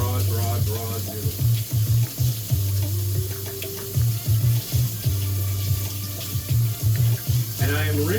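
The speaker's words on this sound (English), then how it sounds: "And I am rinsing my noodles." Broad potato noodles are rinsed under a running kitchen tap, a steady loud rush of water with intermittent splashing and shifting as the noodles are moved, while a voice talks over it.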